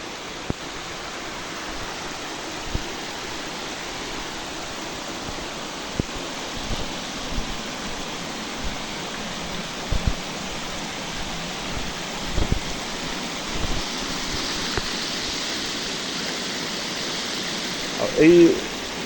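Water pours over Sirispal Dam in Keonjhar, Odisha, making a steady broadband rush that stays constant throughout, with a few faint clicks and knocks near the end.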